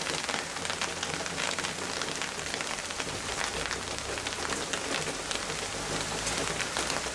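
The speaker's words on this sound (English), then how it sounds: "That's quite a substantial rain." Heavy rain pours down during a June thunderstorm in Eastbourne, England, a dense steady hiss of drops pattering on surfaces close by, continuous and even throughout.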